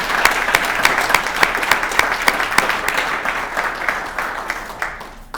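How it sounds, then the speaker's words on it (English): Hearty audience applause at the 2019 Corvallis Odd Fellows Unsung Heroes awards banquet, with distinct nearby claps over a dense crowd clatter, fading toward the end. "Let's round of applause for Ken."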